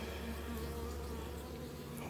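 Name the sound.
honey bees buzzing at an opened beehive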